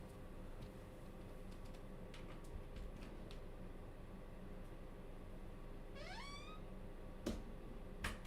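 A pet cat gives a single rising meow, clear but moderately quiet, over a low constant background hum, followed by a couple of sharp clicks.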